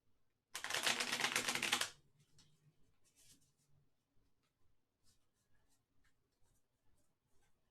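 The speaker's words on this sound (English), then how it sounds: "So I'm going to just do a very quick cursory shuffle." Tarot cards riffled in a quick shuffle during a live reading, a dense burst of papery flutter lasting about a second and a half, followed by faint handling noises and quiet room sounds.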